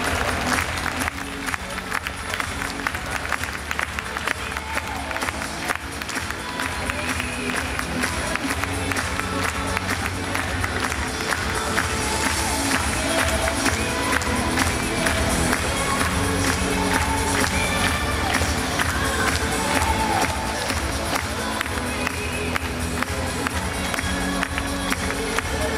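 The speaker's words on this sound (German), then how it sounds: "Diesen Applaus habt ihr euch verdient" Sustained audience applause with scattered cheers at a German youth artistic gymnastics all-around championship for age-12 boys, dense clapping continuing for the whole stretch in a large hall.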